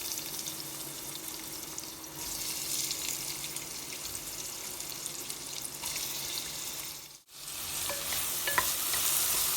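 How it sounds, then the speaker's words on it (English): Onions sizzle and fry in hot ghee in a pan, making a steady crackling hiss close by. Stirring scrapes are heard over it, and there is a brief dip partway through. "First we put in the onions"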